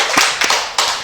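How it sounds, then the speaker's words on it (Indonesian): Three sharp hand claps from a small group or single person, spaced evenly, close and fairly loud with no talk over them, at a school podcast recording. "Boleh kita kasih tepuk tangannya dulu."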